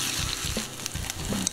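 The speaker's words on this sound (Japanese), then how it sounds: "蓋をして、弱火で 4、5 分ほど焼いていきます。" Corn tsukune frying over low heat in a covered pan, giving a steady muffled sizzle with soft crackles throughout.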